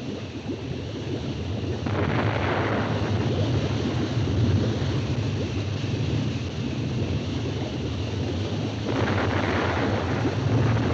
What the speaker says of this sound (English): The explosion wasn't powerful enough to bring up the stones.